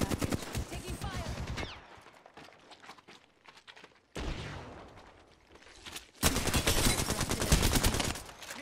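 Rapid automatic gunfire in the Apex Legends battle royale game, loud bursts of shots that stop, resume and then build into a dense, sustained volley, with players talking over parts of it.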